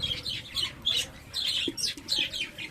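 A breeding colony of budgerigars kept in clay-pot nests chatters busily, with overlapping close chirps, squawks and warbles in a continuous lively stream.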